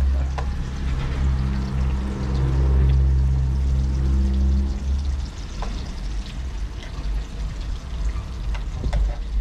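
Two slices of Maltese bacon fry in a pot with a steady, close hiss and crackle. Early on, a low rumble sits underneath.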